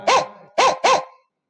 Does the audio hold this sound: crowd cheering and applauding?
no